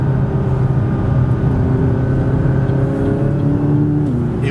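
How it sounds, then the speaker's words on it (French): A McLaren 570 GT accelerates hard onto a highway with turbos behind the cabin, a loud steady engine drone rising in pitch and then dropping as the gear changes, heard from inside the car. "la voiture elle accélère tellement rapidement"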